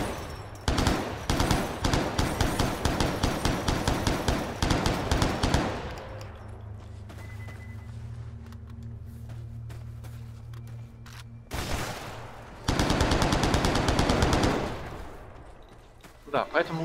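Rapid gunfire bursts from the online shooter game Stalker Online, loud dense volleys in the opening seconds, a low droning pause, then another sharp burst of shots around the middle and a final flurry near the end.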